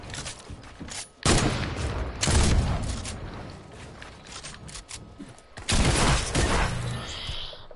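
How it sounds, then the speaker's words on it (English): Several players trade gunfire in a video game, with loud bursts of shots and booms arriving in clusters separated by quieter gaps, the firing close and dense at times. "I just have a bunch of folks shooting at me."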